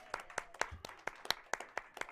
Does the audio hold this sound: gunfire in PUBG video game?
no